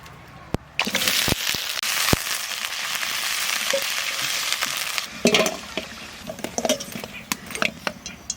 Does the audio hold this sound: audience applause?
no